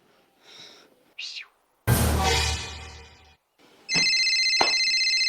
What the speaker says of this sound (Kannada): ಎಸ್ ಫೋನ್ ಬಂತ ಸರ್